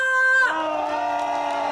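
A crowd at an outdoor beer festival concert in Eumseong cheers and shouts. A short held tone gives way to a sustained, loud wash of many voices.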